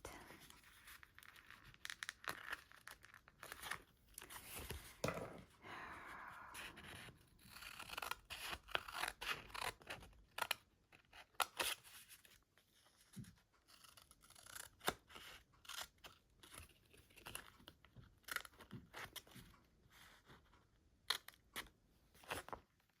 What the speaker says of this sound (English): I'm using the blade on this and I'm going down and it's ripping it.